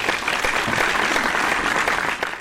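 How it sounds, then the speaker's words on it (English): Warm applause from an audience greeting a guest speaker at a talk, steady and fairly loud for a couple of seconds before tapering off. "Let us give a warm round of applause to Kambis Kohansal Vajargah."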